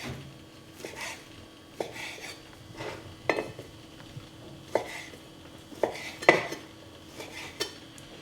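A knife slices through a skinned haddock fillet on a kitchen board, giving a scatter of soft, irregular taps and scrapes, close and fairly quiet, with no talking.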